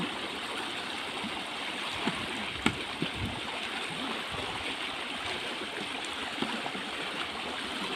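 Strong river water flows with a steady, dense rushing roar, constant and close, with occasional small splashes and no voices.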